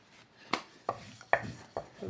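Knife chopping through rolled-out puri dough on a board, five crisp separate cuts at an uneven rhythm, close and clear with no talk.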